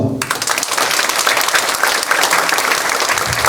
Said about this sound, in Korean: 우리 배연성 목사님께서 뜨거운 박수 한 번 더 해주시기를 부탁드리겠습니다